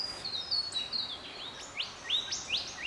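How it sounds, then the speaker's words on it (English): Birds in a national park give thin, high chirps and short whistled notes, faint against a soft steady outdoor hiss. "you can hear the birds"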